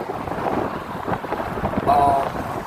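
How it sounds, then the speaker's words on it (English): Gusty wind buffets the microphone outdoors, rushing and uneven, with a brief tonal whine near the end and some faint talk in the background. "Oh, it's windy out here, man."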